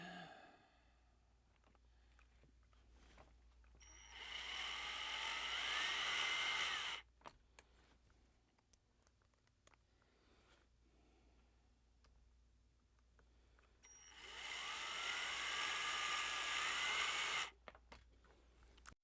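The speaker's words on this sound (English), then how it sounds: "we'll start a couple of screws in the holes before actually putting the machine up in place" A power drill drives screws into pre-drilled holes before a model railroad switch machine is mounted, two bursts of whirring a few seconds each separated by quiet clicks and handling sounds.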